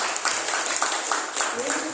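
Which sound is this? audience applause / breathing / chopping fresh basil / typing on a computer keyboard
audience applause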